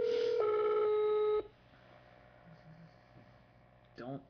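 A telephone ring tone sounds loudly for over a second, then cuts off, followed by quiet room hum and a brief voice near the end.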